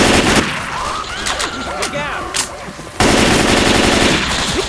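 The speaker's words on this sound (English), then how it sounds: "We cannot be shooting each other." Rapid automatic gunfire from Left 4 Dead 2 on the Hard Rain level, dense bursts of loud shots with zombie-game clamor, a brief break near the three-second mark, then heavier sustained firing; voices murmur faintly underneath.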